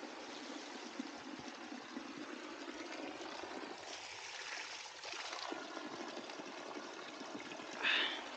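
Clear spring water flows steadily at the source, a continuous close-up trickling and rushing wash with no speech over it.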